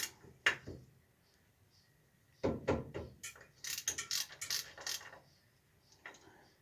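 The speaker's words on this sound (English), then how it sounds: "I've got my ratchet and my socket here." Ratchet and socket working loose bolts on a 1965 Barracuda's wheel cylinder: a sharp early click, then bursts of quick metallic ratcheting clicks in irregular runs, fairly close and alone.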